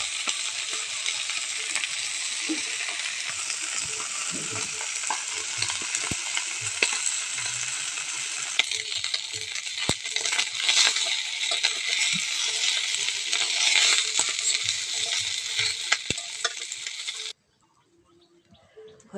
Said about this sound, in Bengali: ঝটপট করে ভেজে নেব এখন।